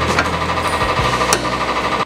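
A grinder works on metal for a homemade tractor pallet fork attachment, giving a loud, close, continuous buzzing drone with a steady rumbling pulse for about two seconds, no voices.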